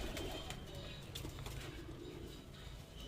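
High flyer pigeons cooing up close over a loud, rumbling background, soft throaty coos blending into the steady noise without any talking.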